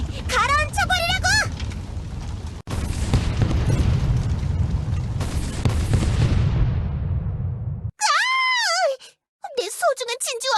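Cannon fire pounds a sandy island in the video game Trickcal Revive, a long run of heavy, dense low booms rolling continuously for several seconds between bursts of high animated character voices.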